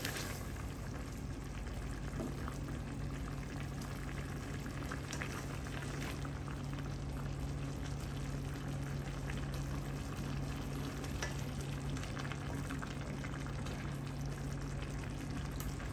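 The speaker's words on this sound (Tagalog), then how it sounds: "Haluin lang po natin." Chicken igado, a Filipino dish of chicken liver and meat, simmering and bubbling in a pan as it is stirred, with a steady close boil and faint scraping throughout.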